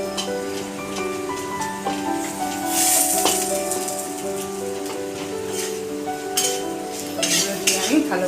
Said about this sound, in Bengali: তো আমি বেসনটা একটু ভেজে নেব তেলের মধ্যে